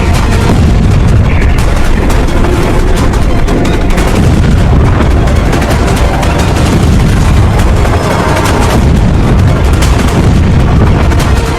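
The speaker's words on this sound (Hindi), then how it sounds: "ये जोरदार धमाका।" A huge explosion of stored ammonium nitrate at a warehouse in Beirut port, a loud continuous roar and crackling blast that fills the whole stretch without pause.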